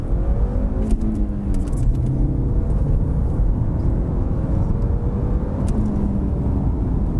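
A tuned 2004 Audi B6 Avant with the 1.8 engine accelerates hard, its steady loud engine note climbing through the gears with rising whine and road roar throughout, heard from inside the car.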